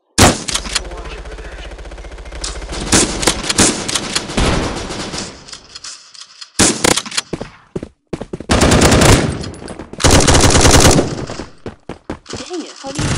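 Rapid bursts of automatic gunfire and single shots in the mobile shooter Bullet Force, loud and close in clustered volleys separated by brief pauses, with a voice talking between them.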